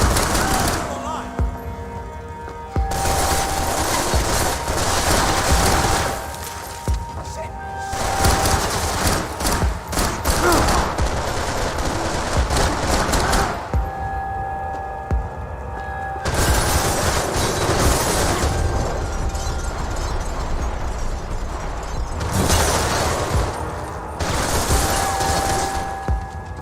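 Dense bursts of gunfire fill a Max Payne 3 firefight, rapid volleys and thuds that stop briefly and then resume, loud and continuous under shouting game voices.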